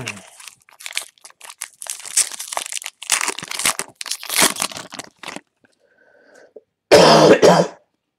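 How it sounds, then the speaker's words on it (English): A person at a baseball card case break coughs and clears their throat repeatedly up close, with rough bursts spread across the clip and a louder, harsher cough near the end. "Somebody wants to make this cough go away"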